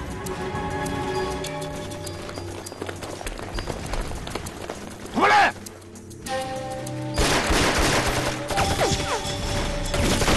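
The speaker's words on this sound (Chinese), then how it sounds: "枪声好像很近了" Gunfire in a martial arts action film: scattered shots and crashing bursts over running footsteps and a background music score, with one loud blast near the middle.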